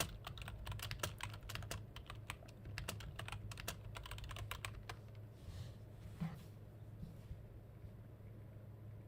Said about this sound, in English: Sorry about the typing, guys.